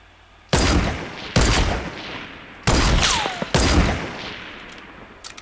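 Gunfire in Fortnite, a duo battle royale match: four loud, sharp bursts of shots at spaced intervals, each decaying before the next, with a whistling streak through one burst and no voices.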